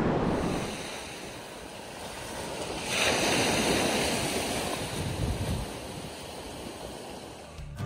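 Waves breaking on a sandy beach on Quebec's Côte-Nord, a continuous rushing surf that swells to a louder crash midway, mixed with gusty wind buffeting the microphone.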